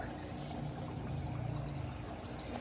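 Steady trickle and splash of water falling like a small waterfall into a freshwater aquarium, a continuous close wash of liquid with no talking.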